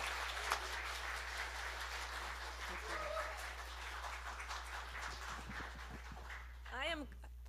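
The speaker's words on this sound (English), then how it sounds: "please join with me in giving Marla a wonderful round of applause and a welcome" Audience applause welcoming a speaker to the stage at a church gathering in a large room, a steady wash of moderate clapping spread across the room, with brief voices and a short whoop near the end.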